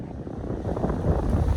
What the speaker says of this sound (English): it's quite windy around here